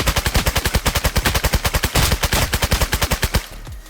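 Sustained full-auto gunfire in the shooter game Contractors, a rapid even burst of loud close shots lasting over three seconds before cutting off into a brief tail.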